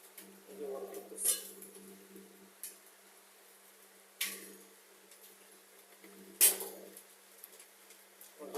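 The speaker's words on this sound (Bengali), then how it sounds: "গ্লাসে বহু শব্দ করতেছে বরফের।" Hailstones striking glass during heavy rain, a few sharp, scattered clinks and taps over a quiet rain background, with a person speaking softly in between.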